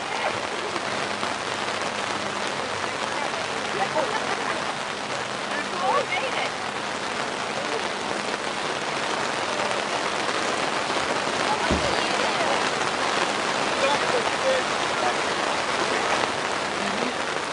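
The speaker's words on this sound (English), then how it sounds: "pouring down the rain" Heavy rain pours down on canopies at an outdoor bass fishing festival weigh-in, a dense, steady hiss of drops drumming throughout with a single brief thump midway.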